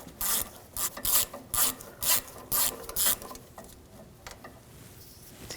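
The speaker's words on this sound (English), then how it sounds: "Use a 10mm socket." A ratchet with a 10mm socket works the thermostat housing bolts on a 2007-2013 BMW 328i 3.0L, making about seven quick, evenly spaced bursts of close metallic clicking, then quiet shop ambience.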